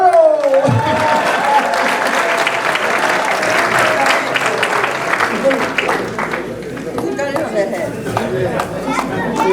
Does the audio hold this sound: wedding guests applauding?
yes